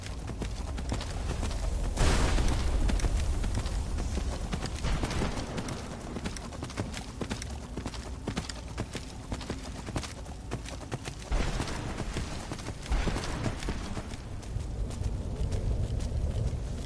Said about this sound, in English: A better horse. He can run on top of water.